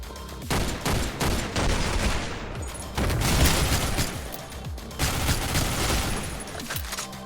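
Rapid, dense gunfire from a video game, with a French-language horror shooter set in a bloody manor as the setting: continuous loud bursts of shots with brief pauses, close and sustained throughout, no talk over it.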